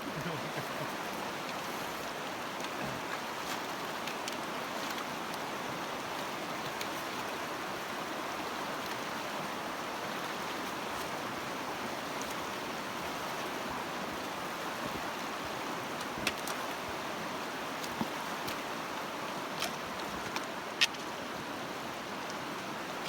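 Cold wild river in Glacier National Park rushing past as someone wades across, a steady broadband wash of flowing water throughout, with a few faint splashes and knocks near the end.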